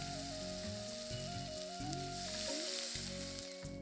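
Cumin, turmeric, green chilli paste and ginger-garlic paste sizzle in hot oil in a pan, a steady close frying hiss with faint stirring and a tonal hum running beneath it, and nobody talks.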